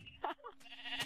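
A single short sheep bleat from the Minecraft video game, clear and close, with faint background sound around it.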